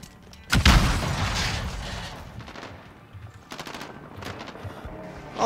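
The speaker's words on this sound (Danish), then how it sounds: "vi blev skudt efter" A loud burst of gunfire in the Call of Duty: Modern Warfare beta opens with a heavy boom and rattling shots, fades, then returns as a second volley of quicker, lighter shots.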